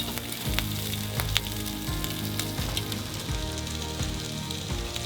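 An egg fries in a pan over an improvised campfire at a beach camp, a continuous crackling sizzle with scattered sharp pops, close and steady throughout.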